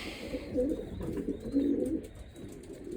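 Pigeons coo softly in low, rolling calls, a few repeated phrases close by over a quiet background.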